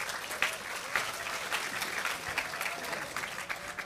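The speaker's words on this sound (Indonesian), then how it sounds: "Tepuk tangan untuk anak kita berdua." An audience claps steadily at an Indonesian religious gathering with Cak Nun, a dense patter of many hands in a large crowd, moderately loud, with no talking over it.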